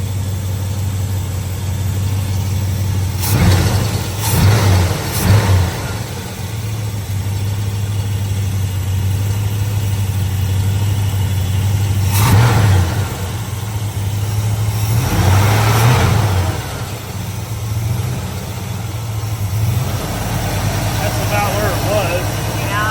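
A Chevelle engine idles high with a steady low rumble, running continuously up close while people talk over it.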